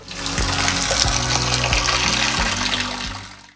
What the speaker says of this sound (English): And the water flows. Check out the pressure.